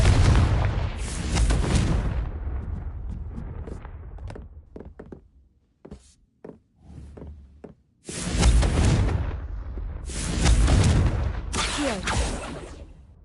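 Confringo fire spells go off in Hogwarts Legacy as loud, booming blasts. A heavy burst opens the clip, then come scattered thuds and knocks, followed by two more big explosive bursts near the end.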